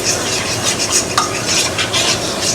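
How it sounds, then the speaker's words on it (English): Gravy being stirred in a pan for Southern smothered pork chops, a steady close scraping sizzle with rhythmic utensil strokes against the pan, no talk. "You have to keep stirring that gravy"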